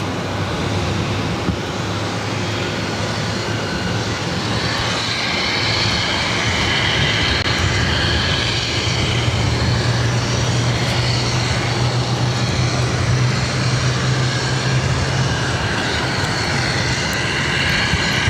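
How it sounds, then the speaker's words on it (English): A Lufthansa Airbus A340-600 arriving from Frankfurt at Boston Logan, its engines a steady, broad roar that stays loud and even throughout with no voices over it. "422 coming in from Frankfurt on the A340 600 Hotel Whiskey"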